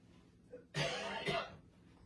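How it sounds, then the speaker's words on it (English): A man coughs twice in a short, harsh burst, heard indoors from a little distance during a quiet craft session. "Do you hear my husband cough?"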